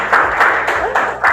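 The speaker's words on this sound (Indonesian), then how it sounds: "tepuk tangan Mas" A small classroom group claps in a few distinct rhythmic bursts, close and fairly loud, with a voice briefly audible underneath.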